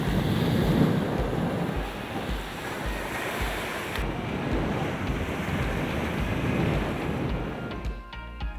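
Sea waves in the Maldives roll and break steadily near the shore, a continuous loud wash of surf with some wind buffeting the microphone, no voices present.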